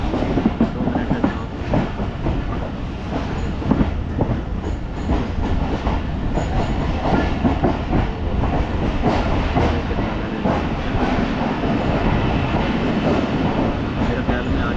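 A Pakistan Express passenger train runs on the line from Rawalpindi toward Dina with a loud, continuous rumble and rhythmic clickety-clack of wheels over rail joints, heard from on board, with speech mixed in.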